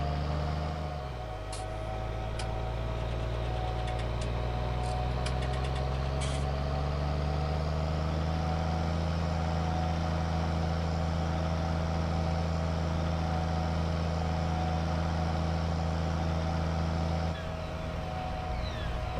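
A tractor engine running in Farming Simulator 19 while liming a field, a steady low idle drone with a gradual rise in pitch, continuous and close, with a few brief clicks early on.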